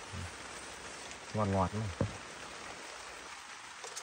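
Steady rain falls at night during a fishing trip in the flood season, a constant close hiss throughout, with someone speaking briefly over it.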